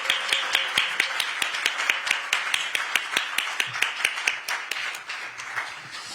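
An audience claps at a Democratic Party event in Korea as a party leader is welcomed to the stage, with sharp, fairly sparse claps close by over a softer spread of clapping.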